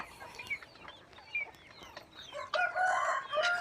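Several roosters crow and cluck around a farm, overlapping calls rising to a loud, sustained crow near the end.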